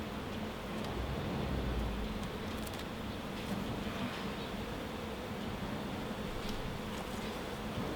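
A dense, steady buzz of many honey bees humming together close by in an open hive, continuous and even with no pauses.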